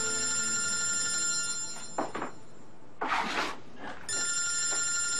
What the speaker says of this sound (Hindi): किसका फोन है अब?